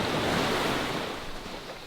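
Ocean surf on a UK beach, a loud continuous wash of breaking waves with wind rumble, close and steady, gradually easing slightly, with no voices.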